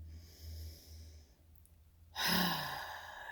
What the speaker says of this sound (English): Take in some deep breaths.